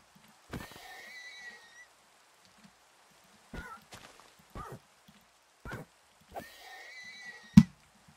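Minecraft horses give two whinnying neighs, one near the start and one near the end, with a few short soft blocky game sounds scattered between them and no talking.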